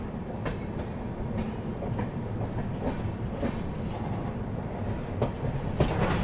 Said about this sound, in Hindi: बाकी दोस्तों सामने से आ रही है आप लोगों की लखनऊ काठगोदाम एक्सप्रेस।